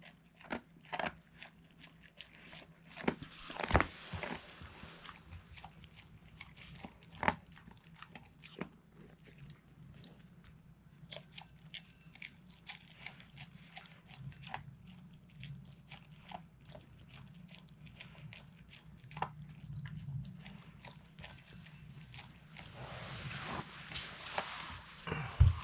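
A Siberian husky chewing wood-grilled mackerel outdoors in the countryside, with intermittent close crunches and bites spread irregularly over a quiet background.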